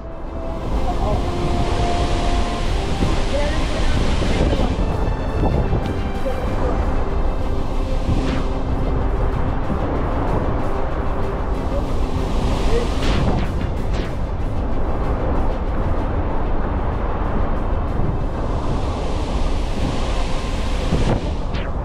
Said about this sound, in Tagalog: Basang-basa namin pinanood ang pagbagsak ng mga tubig mula sa second tier ng talon